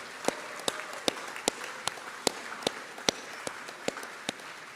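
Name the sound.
applause at graduation ceremony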